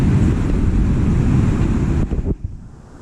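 Rough monsoon sea on the Konkan coast crashes in a heavy, continuous roar laced with strong wind buffeting the microphone, then cuts off abruptly near the end.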